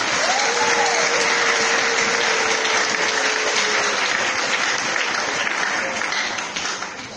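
An audience bursts into sustained, dense applause at a church sermon gathering, with a thin whistling tone early on; the clapping rolls on evenly before easing off toward the end.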